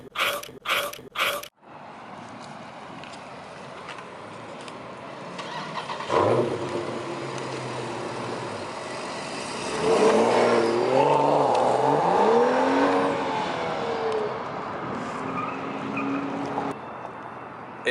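A BMW 335i with a mid muffler delete exhaust revs hard and loud, with a few sharp blips at the start, then a sustained roaring climb and fall that fades into a steady idle rumble.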